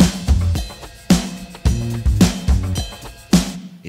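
Drums and bass with Fairchild-style parallel compression blended into the original mix, a tight groove of regular kick and snare hits over a bass line, with the cymbals sitting slightly more controlled, loud and steady with no voices.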